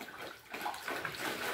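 A dog splashes into a backyard swimming pool, a brief rush of churning water at moderate loudness that swells toward the end, with no voices heard.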